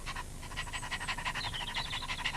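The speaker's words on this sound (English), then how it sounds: "You silly bumpy dog. What are you doing?" A dog pants rapidly and steadily, a rhythmic series of breathy huffs at close range, fairly loud and continuous with no voices over it.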